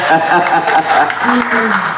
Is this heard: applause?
yes